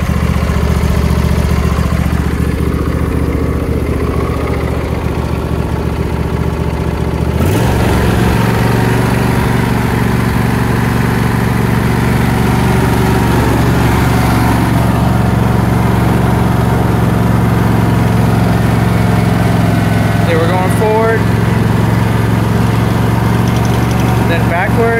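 A Husqvarna YTH22V42 riding mower's engine runs at a steady, close, continuous hum, with a brief shift in its drone around a third of the way in, while a person talks at times over it.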